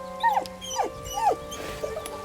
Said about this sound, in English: With a deep, heartbroken whine, the dog bows his...